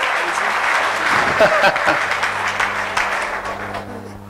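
A congregation at a church training seminar in Nice claps in a dense, sustained round of applause acclaiming the Lord, steady and loud for a few seconds before tapering slightly.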